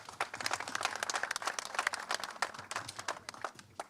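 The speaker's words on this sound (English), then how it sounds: "Let's give him a round of applause, please." Audience at a Brampton Liberal campaign office opening clapping for an MP guest, a fairly faint but steady patter of many hands with no talk over it.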